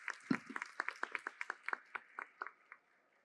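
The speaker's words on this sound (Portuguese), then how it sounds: "Uma salva de palmas," A small handful of claps for the speakers at the opening of an environmental education conference, about a dozen distinct, fairly close hand claps in an uneven rhythm that taper off and stop.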